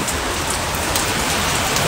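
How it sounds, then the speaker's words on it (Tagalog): Heavy rain pounds steadily on a car in a dense, loud, unbroken roar of drops drumming on the body, close and without pause. "lakas ng ulan ah"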